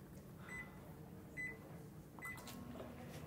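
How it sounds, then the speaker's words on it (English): Microwave oven heating a cup of white chocolate chips, a steady low hum close by with a few faint beeps and a soft clunk near the end. "I'll just go ahead and stick that in the microwave."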